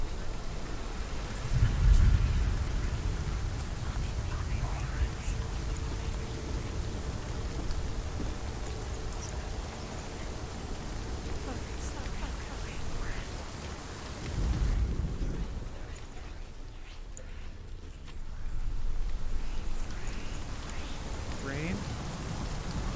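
Rain and rolling thunder in the video game Hellblade: Senua's Sacrifice, a steady wash of rainfall broken by deep low rumbles swelling near the start, midway and near the end.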